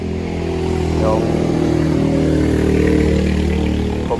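A Honda Navi scooter engine runs at a steady idle-to-low throttle, a continuous close mechanical drone with a slight swell in revs midway.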